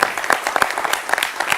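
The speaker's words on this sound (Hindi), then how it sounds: "ये राशिद साहब के लिए तालियां हैं।" Studio audience applauding for a guest journalist joining a televised election opinion poll program, a brief dense burst of scattered clapping.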